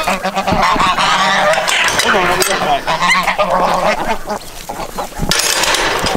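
Geese honk and squawk loudly and repeatedly, a noisy flock close by before feeding on a farm, with a person briefly speaking over the calls.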